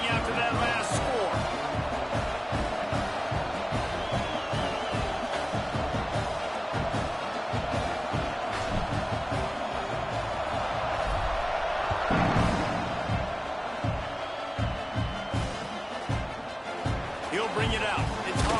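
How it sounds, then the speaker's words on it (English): Stadium crowd noise from a college football video game, Florida Gators versus Oklahoma, a steady dense roar with rising swells and sharp bursts over the full stretch, commentary voices talking over it. "this crowd is buzzing after that last score"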